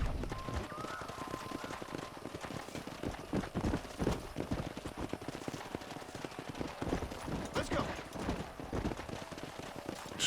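Horses gallop in Red Dead Redemption, a fast, continuous clatter of hooves with repeated thuds, fairly close, alongside faint shots and brief talk in the background.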